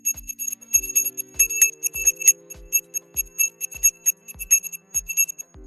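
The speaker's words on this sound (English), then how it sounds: "I did ring the bell, but I will do it again." A bright bell is struck repeatedly in a steady rhythm, about a dozen sharp rings with shimmering overtones and thumping low hits, each ring decaying quickly before the next.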